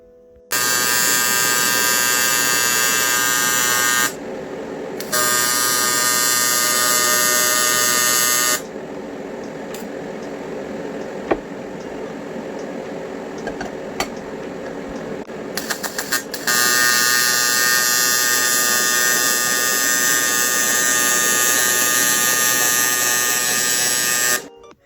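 An exhaust pipe for a 20B-powered RX7, stepping from 2 1/4 to 2 inch, is welded in several long bursts of steady electric buzzing. Short quiet pauses separate the bursts.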